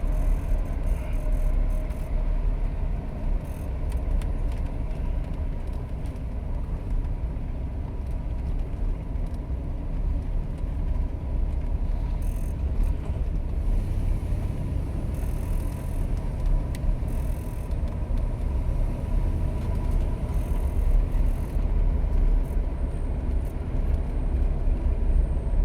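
A 1977 Pontiac Grand Prix SJ drives gently through a neighborhood, a steady low engine hum and road rumble heard from inside the car, even and continuous with no talking.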